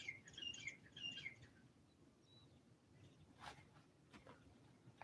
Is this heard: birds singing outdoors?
yes